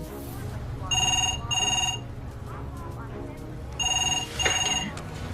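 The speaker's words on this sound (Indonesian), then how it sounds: "tiba-tiba telepon berbunyi" Telephone ringing in a scene from the drama series Fear the Walking Dead: two bursts of electronic ring tones, a pause, then two more, heard over a low background rumble.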